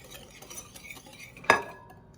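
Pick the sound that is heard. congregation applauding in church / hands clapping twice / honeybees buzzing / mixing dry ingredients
mixing dry ingredients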